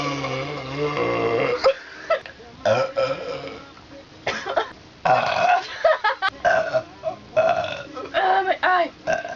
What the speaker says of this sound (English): I need to burp right now.